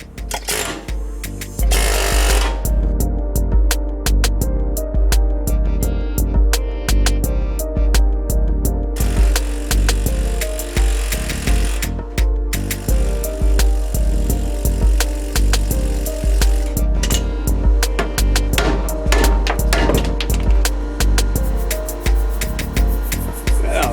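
Loud, rapid metal-on-metal hammer strikes on a pickle fork driven into a ball joint on a Dodge Ram 4WD, ringing in a steady, relentless rhythm, with a few brief pauses between bursts.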